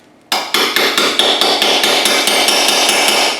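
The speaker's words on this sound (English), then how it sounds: "take a little chisel and spread this open just a little bit" A chisel struck with a hammer to spread open a front suspension part on an Audi A4, about a dozen loud, sharp metallic blows in quick, even rhythm, ringing into each other, no speech.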